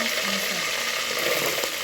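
Onion hits hot oil in a pot for okra stew, sending up a loud, close, steady sizzle with light stirring noises over a short stretch.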